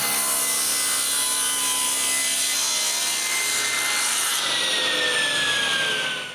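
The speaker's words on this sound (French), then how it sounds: "Ensuite, je peux couper un bout de bois à cette dimension-là." A saw cuts through a piece of wood in the workshop, a loud, close, continuous rasping stroke sound with a shift in pitch near the end as the cut finishes, no talking.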